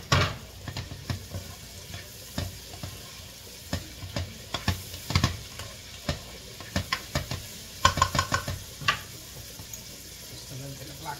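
Garlic, Scotch bonnet pepper and scallion sizzle in a pan, frying steadily under repeated stirring clatters and scrapes, close and fairly loud.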